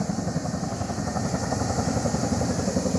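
A helicopter's rotor thumps in a fast, steady rhythm over a continuous engine drone, loud and close throughout, in Beldibi, Antalya.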